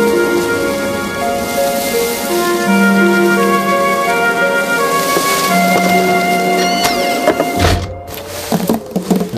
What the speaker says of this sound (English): Still, a spot of rain never did any harm.